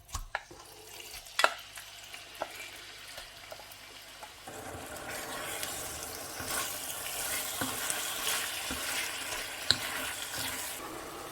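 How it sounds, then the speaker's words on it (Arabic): Marinated chicken breast laid into a frying pan, a few clinks and taps at first, then a steady soft sizzle of frying that continues to the end, with no voices. "هنايا نحطهم يتقلاو."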